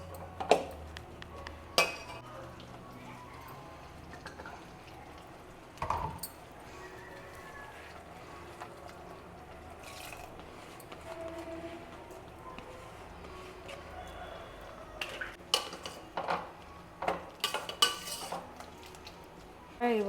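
Masala cooking in a pan for temple-style sambar, with a spoon scraping and clinking against the metal in scattered bursts, a sparse stir near the start and quicker clusters of clinks toward the end over a quiet background.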